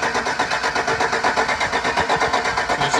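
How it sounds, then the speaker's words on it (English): A 2007 Autocar WXLL42 truck engine cranks over through a bypassed crank solenoid, a rapid, even rhythmic chugging of the starter turning the motor without it firing, close and loud, with no talking. "I'm bypassing the little crank solenoid here so you can actually see it turning over."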